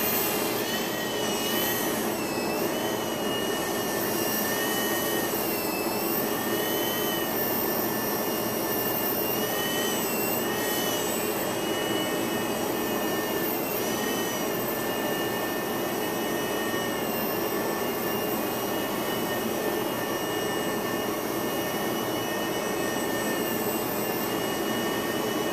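Steady high-pitched whine of a small engine with wavering tones, like a model helicopter running continuously close by for the whole stretch.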